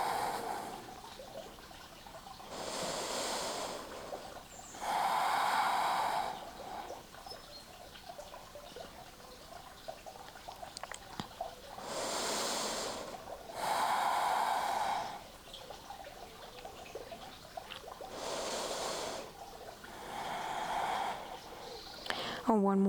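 Slow, deep breaths during a yoga bridge pose in a morning flow, each long airy inhale and exhale rising clearly and falling away in a steady rhythm, close and fairly loud against a quiet background.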